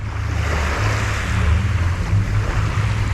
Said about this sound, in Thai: นี่คือบรรยากาศหาดจอมเทียนในตอนเย็นๆนะเพื่อน